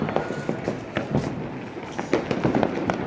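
A string of Diwali firecrackers in Amritsar goes off in a rapid, irregular crackle of sharp bangs, loud and close, continuing throughout with no talk.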